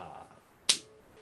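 A single sharp hand clap marks the beat, crisp and close in a quiet room with a faint low background hum.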